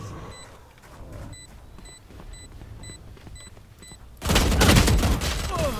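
Rapid gunfire from Valorant rattles in the distance at first, then a loud, dense burst of shots erupts close by and continues to the end.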